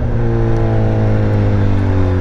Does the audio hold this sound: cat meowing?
no